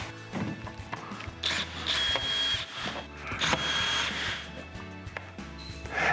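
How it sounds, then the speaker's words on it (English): Screws being driven back in along the bottom of a pop up camper body panel on a Destiny series unit, with short bursts of a whirring power driver separated by brief pauses, fairly quiet. "Now reinstall any remaining screws along the bottom."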